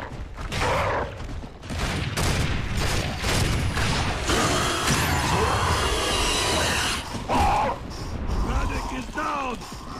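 Locust rifle fire in the video game Gears of War: Judgment, dense loud gameplay audio with repeated sharp shots, mechanical clatter and battle noise running almost continuously, with voices in the mix.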